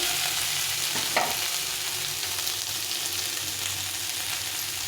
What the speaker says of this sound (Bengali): এখানে আলু পটলটা অনেকটা ভাজা ভাজা হয়ে গেছে